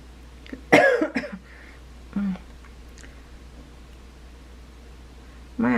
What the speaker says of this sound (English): My apology if I have to cough a little bit more often.